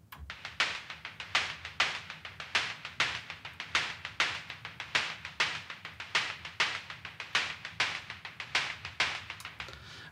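Synthesized percussion loop built from analog-style and FM noise drum sounds, playing a steady, busy rhythm of sharp, bright hits with a constant low hum beneath, alone and without voices.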